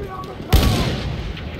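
A single loud, sharp gunshot from Battlefield 1 cracks out with a boomy tail, set against a low battlefield rumble and faint in-game voices.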